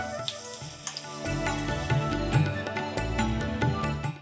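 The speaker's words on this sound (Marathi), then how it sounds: "मस्त पापड तळला जातोय." Urad dal papad frying in hot oil, a steady bubbling sizzle with crackling pops that swells once the wafer drops in, mixed with faint clinks and a low hum, no talking.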